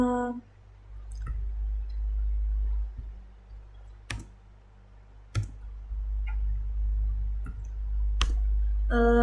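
Keys pressed on a computer keyboard during a programming exercise, a handful of sharp, isolated clicks spaced a second or so apart, close and clear over a low steady hum.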